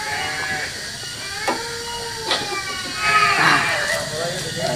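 A sheep bleats repeatedly near the microphone in a village setting, wavering cries recurring every second or so while people talk nearby.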